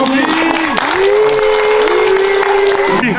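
A cinema audience applauding, with clapping mixed with cheering and raised voices over it.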